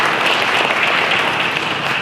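An audience applauds the chief judge and volunteer judges at a scale model event, a dense, loud and even burst of many hands clapping throughout, with no talking.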